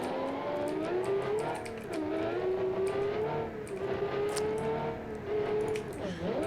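A car engine in BeamNG.drive held in high gear at full throttle, droning steadily and climbing slowly in pitch with slight dips, a strained, sluggish acceleration heard loud and continuous.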